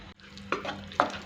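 Puliyodharai tamarind paste with peanuts and cashews is mixed into cooked rice, giving two soft, close, wet scraping strokes with a quiet hum underneath.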